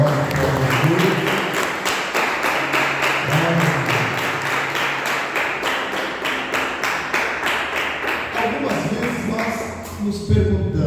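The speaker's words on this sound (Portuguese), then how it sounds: "Você pode dar uma salva de palmas ao Senhor." Congregation applauding the Lord at a Sunday church service, a steady dense round of clapping lasting throughout, with a voice speaking over it near the start and again at the end.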